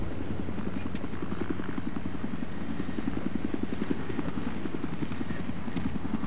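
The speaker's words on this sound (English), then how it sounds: "this person is flying the helicopter like a boss" Helicopter in the video game Battlefield 3 flying and coming in to land, its rotor blades throwing a loud, steady rhythmic thumping over a constant engine drone with no talking.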